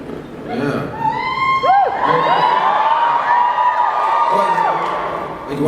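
Convention panel audience at the San Diego Comic-Con X-Files 20th anniversary reunion, a big hall crowd cheering and whooping loudly and steadily, with shrill individual shouts rising above the roar.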